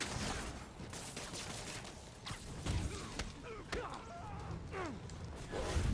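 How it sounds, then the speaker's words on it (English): Enemy gunfire in Spider-Man on PS4 crackles in scattered bursts and shots from several directions, mixed with thuds, whooshes and other game effects at moderate loudness. "I'm getting shot from every side"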